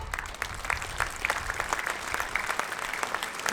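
Crowd of students and teachers clapping in a lecture hall at an Indian school event, a fairly steady patter of applause with scattered sharper claps and a faint low rumble beneath, no speech on top.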